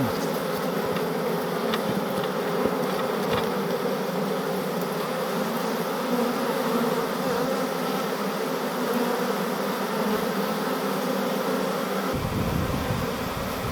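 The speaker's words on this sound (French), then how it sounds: "Il y a des abeilles qui rentrent dans la ruche" Dense, steady buzzing of many honey bees swarming close by at a hive, a continuous droning hum that never lets up.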